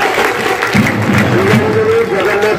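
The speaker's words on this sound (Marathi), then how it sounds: "त्याच्यापेक्षा डबल टाळ्या आता वाजल्या पाहिजे" Audience applause at a school anniversary prize ceremony, a steady wash of clapping lasting throughout, with a voice briefly audible over the clapping.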